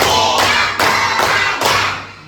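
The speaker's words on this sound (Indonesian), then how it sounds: "Tepuk 1, tepuk 2, tepuk 3, tepuk 4, tepuk 5" A group claps in a counted routine from one to five during a primary school lesson. Five sharp, loud claps arrive at an even, unhurried pace, each ringing briefly before the next.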